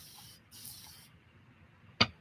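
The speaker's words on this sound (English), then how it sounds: "These, I'm just going to spray these." A spray bottle mists water onto Masha watercolor paint pans with one soft, hissing burst lasting about half a second, followed by quiet and then a sharp click near the end.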